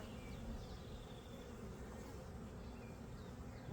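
Honeybees swarm and buzz around an open beehive during a hive split, a dense continuous drone of many wings filling the air, fairly faint and steady with no voices.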